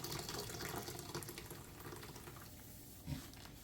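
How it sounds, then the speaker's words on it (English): Homemade juice squeezed and wrung by hand through a drawstring straining bag, a steady wet trickling and splashing of liquid running out, fairly close and continuous, easing slightly toward the end with a brief soft knock. "Shut the bag, then you can just get the full squeeze."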